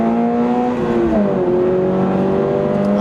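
A Toyota GR86 accelerates out of a slow corner on a racing circuit, its engine note loud and close, dipping briefly at a shift and then climbing steadily again.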